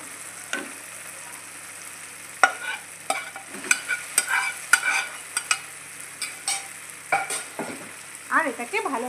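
Cauliflower florets and melted tomato sautéed and stirred in a pan for aloo gobi, with soft sizzling under irregular scraping and clattering strokes of the spoon, close and fairly loud, with no one talking.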